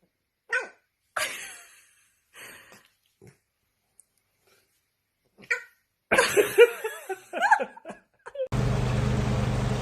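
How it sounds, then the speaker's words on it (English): A pet dog barks in a few short, scattered bursts near the microphone, with squeals and laughter-like sounds between them and a sudden burst of noise at the end. "This is my dog Duck."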